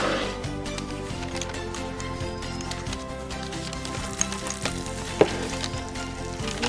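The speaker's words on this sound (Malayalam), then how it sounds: "അല്പം മഞ്ഞൾപ്പൊടി, ഒരു 1/4 ടീസ്പൂൺ മഞ്ഞൾപ്പൊടി അതിനകത്തേക്ക് നെയ്യിലേക്ക് ഇട്ട് കൊടുക്കാം." Turmeric and chili powder sizzle in hot ghee in a pan while cooking egg biryani, giving a steady, close crackling fry with a few louder pops near the end.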